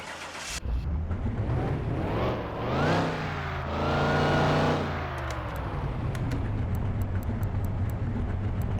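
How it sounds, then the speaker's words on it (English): A supercharged Camaro drives in Car Mechanic Simulator 21 with a loud, steady engine drone. It rises and falls through revving shifts and ends with a series of brief ticking clicks over the engine. "Now we're going to drive it to the drag strip."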